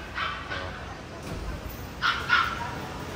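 Dogs in a pet shop yip and bark in short bursts, moderately close, over a steady background murmur of the shop.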